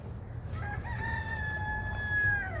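A rooster on a small homestead crows once, a loud, drawn-out call that rises and holds before trailing off, over a steady low background hum.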